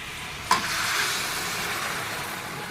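Khichdi frying in a pan, a soft steady sizzle with one short scrape or clink near the start, close and alone.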